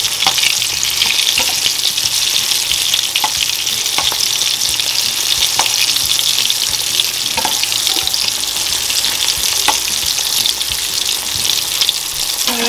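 Egg-coated dried fish fries in oil in a pan, a steady loud sizzle with crackling pops throughout, a traditional Guatemalan dish, with occasional clinks of a spoon adding more oil.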